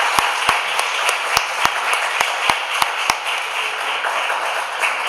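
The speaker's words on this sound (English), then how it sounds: "A big applause for..." Dense, steady applause from a conference audience at an international academic congress, with a few sharper individual claps standing out at a regular pace through the sustained wash of clapping.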